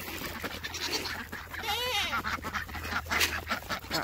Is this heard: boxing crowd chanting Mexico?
no